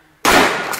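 A single gunshot at a fun shoot bursts out close and loud after a brief silence, then its harsh, broad blast decays slowly through the rest of the moment, with no talking.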